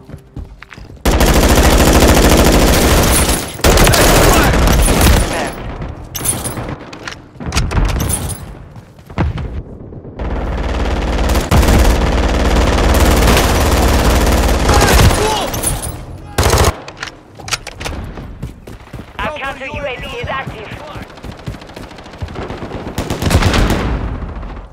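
An M4 assault rifle fires in Call of Duty MW3 on a Kill Confirmed match: loud, dense automatic bursts repeat for long stretches with brief pauses, mixed with explosions and game voice callouts.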